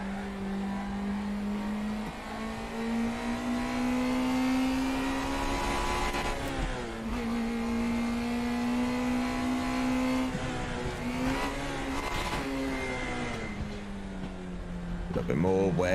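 A race car engine in the RaceRoom racing game, with a worn, damaged gearbox, drones and revs continuously at close range, its pitch rising and dipping with gear changes while someone talks over it.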